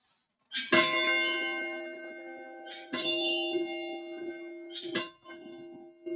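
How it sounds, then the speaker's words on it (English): A bell at a vigil rings three times at roughly two-second intervals, each strike clear and resonant with a long fading hum, heard alone. "let's hear the ringing of the bell"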